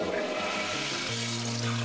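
A toilet flushing in the Deus Ex video game, a short rushing gurgle of water that swells and then settles into a steady hiss, heard alone without voices.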